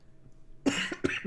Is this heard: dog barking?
no